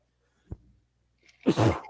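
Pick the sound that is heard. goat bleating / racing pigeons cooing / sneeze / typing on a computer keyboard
sneeze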